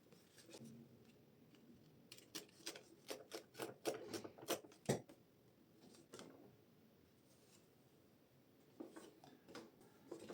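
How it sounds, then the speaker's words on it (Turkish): A paper envelope is torn open up close, giving a burst of sharp rips and crinkles in the middle, then quieter rustling toward the end. "Şimdi zarfı açalım"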